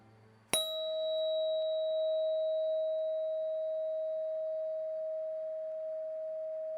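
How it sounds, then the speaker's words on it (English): A 639 Hz sound-healing tone, rung from a tuning fork or singing bowl, sounds as a single struck ding followed by one pure, steady sustained tone that holds level for several seconds, close and alone. "Continuing on our frequency journey, we arrive at 639 Hertz."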